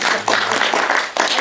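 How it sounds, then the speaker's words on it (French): Audience applause in a theatre fills the space with dense, loud, continuous clapping, swelling briefly twice. "On applaudit, on peut applaudir cette bonne"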